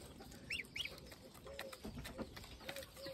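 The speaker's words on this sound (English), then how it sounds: "That's the ducklings, look, not the chickens." Ducks and ducklings around a duck house, with short cheeping and quacking calls scattered through a busy farmyard din, close by amid other poultry noise.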